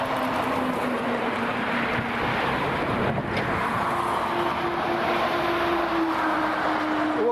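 A heavy six-axle truck rumbles steadily across a bridge, a low continuous drone with a faint engine tone, heard from nearby against wind and traffic noise.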